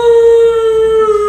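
A human voice imitates a howl, one loud, close, sustained steady tone held for over a second without other sounds.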